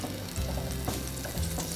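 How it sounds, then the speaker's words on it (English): Butter cooking in a pan until it browns, giving a steady close sizzle and bubbling with low hum beneath and no talking. "we are going to cook the butter until it starts to brown"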